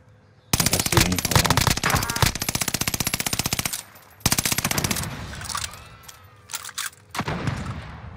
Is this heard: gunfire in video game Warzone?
yes